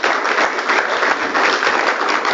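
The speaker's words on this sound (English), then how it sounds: "so big round of applause for these guys for putting all the work into it." Audience applause at a solar association's general meeting, a brisk burst of many hands clapping together, loud and close with no speech over it.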